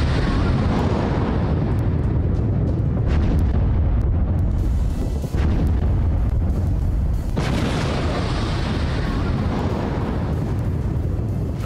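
Drone attack on an explosives plant, with loud sustained rumbling and several sharp booming bursts that roll through the area and echo over a dense background roar.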